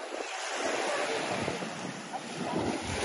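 Surf and wind on the beach at Pasir Ris Park, Singapore, heard as a steady, close wash of breaking waves with constant wind buffeting the microphone and no talking.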